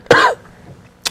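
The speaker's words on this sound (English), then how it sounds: "Still got a little bit of allergies I'm getting over, so I'm coughing up a lot." A single sharp, close cough blends into a throat clear, followed by a quieter pause and a brief second burst at the end, with no speech.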